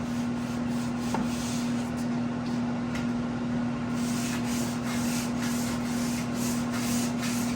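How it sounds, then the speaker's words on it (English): A hand sanding block rubs back and forth over a 1985 Jeep CJ7 body panel: a steady, gritty scraping with rhythmic strokes, close and moderately loud, with a constant low electrical hum underneath. "And that's block sanding right there."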